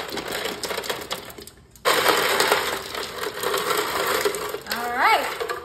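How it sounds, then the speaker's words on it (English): Ice is dropped into a freshly mixed drink: a loud, close clatter and crunch of cubes that breaks in abruptly after a brief pause and rattles on, with a voice-like tonal sweep near the end. "let's go ahead and grab some ice."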